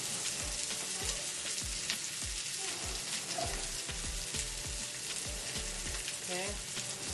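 Black bean burger patties frying in oil in a pan, a loud, dense, continuous sizzle and crackle close up with low knocks from the pan throughout.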